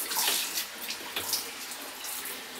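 Cold water gushing from a shower hose, a strong continuous splashing rush that dips briefly and resumes, close by with no talking.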